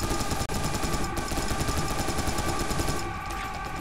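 Enemies in Serious Sam 3 unleash relentless automatic gunfire, a dense rapid stream of shots that stays loud and nearly unbroken, easing slightly near the end.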